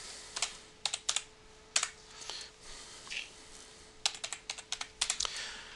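Keys clatter on a computer keyboard while logging in to a website, bursts of quick close taps separated by short pauses, fairly quiet with no talking.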